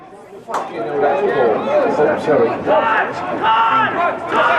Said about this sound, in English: We apologise for any language you might have heard then from the crowd.